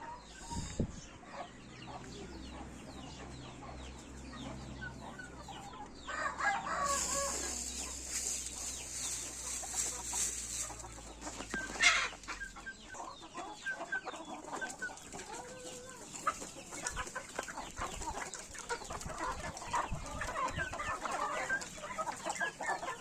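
Young, not fully matured chickens cluck and squabble while rushing at pieces of bread, with a rooster's crow and scattered farmyard fowl calls heard close by throughout.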